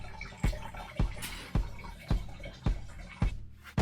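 Fuel dripping steadily from a leaking vacuum fuel tap on a Yamaha motorcycle, about seven distinct drops falling at an even rhythm of roughly two per second, close and clear against a quiet background.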